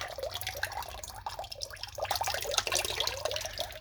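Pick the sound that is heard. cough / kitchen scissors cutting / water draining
water draining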